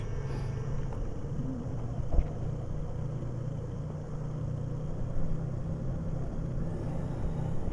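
A small airplane's piston engine runs steadily at low power as the aircraft rolls toward runway 30 before takeoff, a continuous even rumble with a brief thump partway through and no talk.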